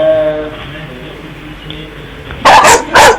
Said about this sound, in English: all those dogs keep barking in your place